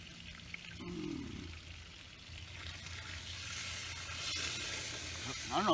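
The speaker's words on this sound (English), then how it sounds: "I don't know if you guys can hear this sizzling." Bacon sizzles and crackles steadily in a pan over an outdoor bushcraft cooking setup, a continuous close hiss with a brief pouring-like burst near the start and a sharper rattle at the end.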